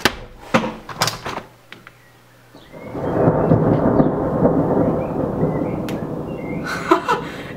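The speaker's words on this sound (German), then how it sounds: "Es müsste gleich donnern." A few sharp clicks and knocks, then a deep rolling rumble of thunder swells up and lingers for several seconds, fairly loud and close.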